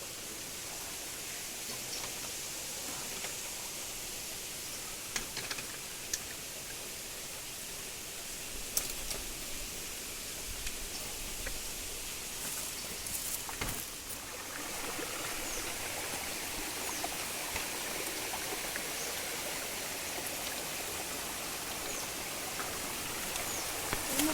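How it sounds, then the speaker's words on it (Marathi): A stream rushes loudly near a waterfall hidden in a forest, a steady broadband roar with a few brief knocks and splashes, and no voices. "पाण्याचा आवाज होता पण आवाज खूप जोरात आहे"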